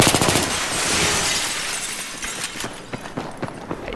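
Rapid machine-gun bursts and shots from the video game Battlefield 3, loud and dense at first, then thinning into scattered sharp single cracks and impacts toward the end.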